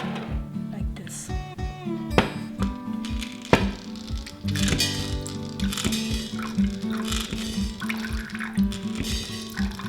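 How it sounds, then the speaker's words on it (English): Water pumped out of a filter pitcher in small bursts of pouring and dripping, with occasional clicks and knocks, heard over a steady background tone. "I have here a pitcher of water, and then you can pump it out like this"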